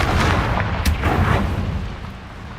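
A Confringo spell blast in the Hogwarts Legacy video game, a loud, dense explosive boom with a sustained rumbling roar that fades out slowly over about two seconds.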